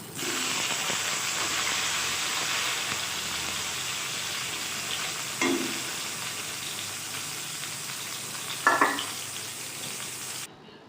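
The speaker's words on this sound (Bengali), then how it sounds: "এখন উচ্ছে ভেজে নিচ্ছি" Thin round slices of bitter gourd frying with salt and turmeric hiss in a steady, even sizzle, with a couple of brief clatters of stirring breaking through near the middle and end.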